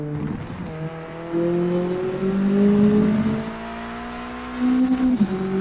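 A Mazda MX-5 race car engine in the racing game Project Motor Racing revs up and down through the gears, its tone climbing and dropping as the car accelerates and shifts, loud and up close with no talk.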